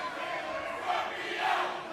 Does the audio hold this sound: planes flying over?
no